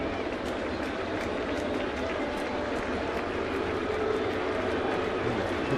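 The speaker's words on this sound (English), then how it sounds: "The crowd sort of getting the Hughes chant going again" Baseball stadium crowd at a Mariners game chanting for pitcher Hughes late in the game, a dense continuous roar of many voices filling the space, steady and loud throughout.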